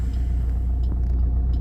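Road traffic on a city street in India rumbles steadily, heard from inside a moving car, with faint passing vehicle noises over the low drone.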